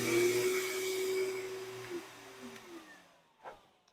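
A high-powered double-motor blower dryer from a taxidermy workshop runs with a loud whooshing roar and a steady motor whine, then spins down and fades out near the end.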